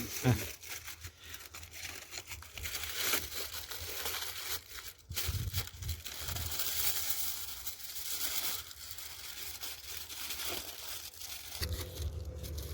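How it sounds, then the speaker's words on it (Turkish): Aluminium foil crinkles and crumples as it is wrapped around a tin can while a grill stove is built, close rustling bursts continuing under intermittent talk. "Çevresine alüminyum folyo sarıp alüminyum folyomuzu sarıyoruz."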